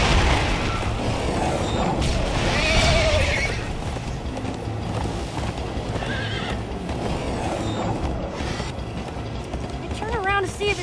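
Horse neighing and galloping hoofbeats in the video game Minecraft Story Mode, a whinny rising over steady clattering motion and busy mechanical game sounds at close range.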